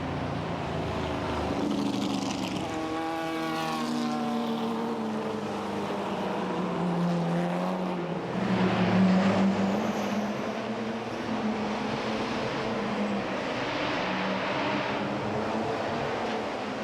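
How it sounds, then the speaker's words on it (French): A Porsche 356 race car at the Le Mans Classic, its engine droning steadily and changing pitch as it revs up and shifts. It rises in loudness around the middle, then settles into a sustained roar. "nous sommes, nous, avec l'équipage Orbach-Vogel dans la Porsche numéro 3"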